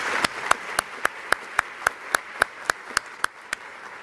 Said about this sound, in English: If we could please give them a round of applause